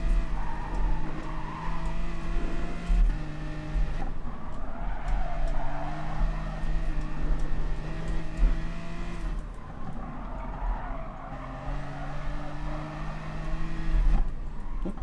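BMW race car in Gran Turismo Sport running a Group 4 race at the Nürburgring 24h circuit, its engine droning steadily with shifting pitch and brief tire squeal, loud and continuous throughout.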